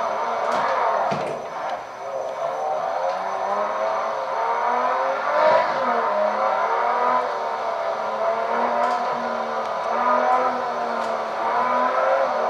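A modded BMW E36 in the Assetto Corsa racing game runs with a steady, droning engine note that rises and falls through gears, with occasional clicks and no talk.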